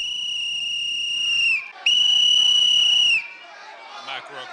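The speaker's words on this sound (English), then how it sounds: "blowing a whistle into a microphone" A shrill whistle blown into a microphone at a campus event sounds in two long steady blasts with a brief gap between, loud and piercing, followed by crowd noise.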